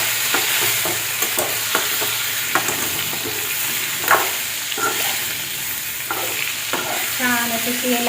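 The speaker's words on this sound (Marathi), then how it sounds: "छान वांगे आता आपल्याला तेलामध्ये परतून घ्यायचे." Stuffed brinjals (eggplants) frying in oil with cumin, mustard seeds and turmeric, a constant sizzle punctuated by repeated spoon scrapes and taps as they are stirred.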